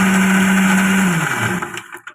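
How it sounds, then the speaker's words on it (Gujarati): A mixer grinder whirs loud and close while it grinds green chutney with a few ice cubes, a steady high motor hum that drops in pitch as it winds down and stops with a couple of light clunks. "ઢક્કણ ઢાંકી અને આપણે મિક્સરમાં પીસી લેશું."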